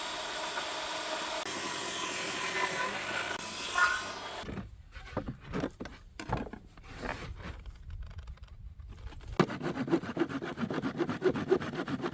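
A saw cuts a wooden corner piece for wall cladding in a mountain house renovation, with rough rasping strokes and bursts of scraping and clattering over several seconds.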